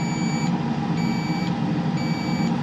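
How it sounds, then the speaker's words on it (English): An alarm beeps as a pump starts up, three evenly spaced electronic beeps about half a second apart over a loud, steady mechanical hum of running machinery. "We'll just shut that alarm off."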